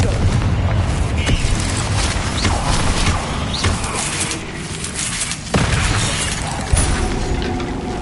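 A Confringo fire spell blasts in Hogwarts Legacy, bursting out in booming, crackling impacts over a dense layer of combat noise, with sharp hits recurring through the stretch.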